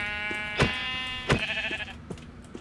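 Minecraft sheep bleats, a couple of nasal wavering cries with soft thuds and clicks between them, close and clear with no talk over them.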